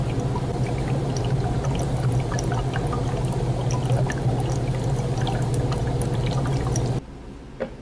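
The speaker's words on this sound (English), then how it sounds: "I drop in some dry ice, and the jets of CO2 cause a beautiful color change as it acidifies the water" Dry ice dropped into basic water with universal pH indicator, fizzing and bubbling steadily in a dense, crackling stream that cuts off abruptly near the end, close and continuous with no talk.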